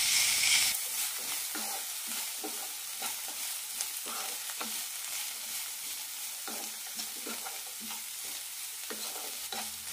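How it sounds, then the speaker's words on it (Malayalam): Cabbage chutney mixture with Kashmiri chili powder sautéing in a pan, a steady close sizzle with repeated scraping stirs of a spoon, no voices. "മൂന്നാല് മിനിറ്റ് നന്നായി വഴറ്റി കൊടുക്കാം."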